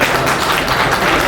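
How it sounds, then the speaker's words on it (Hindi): Loud, dense clapping from an audience at a birthday event honouring the media, a short steady burst of applause up close. "जोरदार तालियां बजा के"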